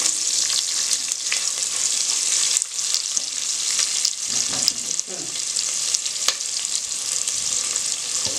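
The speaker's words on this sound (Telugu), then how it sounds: "మనం ఎప్పుడు ఆనియన్స్ కొంచెం ఫ్రై అయ్యే వరకు దీన్ని బాగా కుక్ చేసుకోవాలి" Sliced onions and cashews sizzle and crackle steadily in hot oil in a pan, with occasional stirring scrapes, a loud close continuous fry for a catering-style vegetable pulao.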